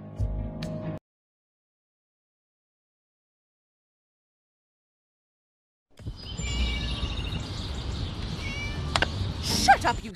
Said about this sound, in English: Shut up, you silly cat!